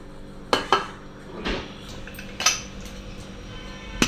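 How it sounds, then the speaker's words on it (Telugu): A metal lid goes onto a pressure cooker with several sharp metallic clanks and clinks, close and spaced out, plus a soft scrape in between. "సో అయితే కుక్కర్ పైన మూత పెట్టేసుకోవాలి."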